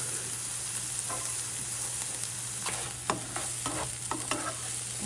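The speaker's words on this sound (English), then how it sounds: "We're gonna get those vegetables nice and soft, and we're gonna sweat out all the flavors" Vegetables sweat in a hot pan for baked beans with a steady, close sizzle. Several sharp scrapes and clicks of stirring sound in the second half, with no talking.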